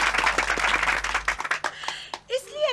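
Studio-audience applause in a Hindi TV comedy scene, a burst of clapping that fades out partway, followed by people talking.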